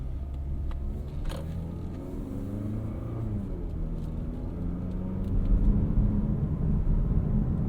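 A 2022 Mazda CX-30 2.5 S engine rumbles low and steady, then the sound rises and thickens toward the end as the car accelerates, heard from inside without talking.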